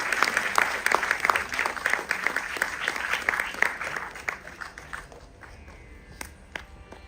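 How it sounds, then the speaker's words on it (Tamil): An audience claps for dance students at a classical dance performance, brisk applause that is strong at first and then thins into scattered claps that fade toward the end. "மீண்டும் உங்கள் கைத்தட்டலோடு"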